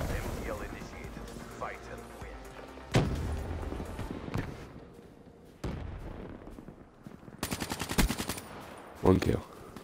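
KM-44 rifle fire in the Black Ops 3 video game comes in short sharp bursts among other in-game shots and effects, with a voice talking over part of it.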